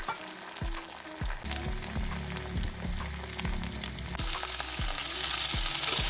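An egg fries in a pan with raw onion and a little salt, crackling and sizzling steadily throughout, punctuated by repeated scraping strokes of a spatula, close up with no talk.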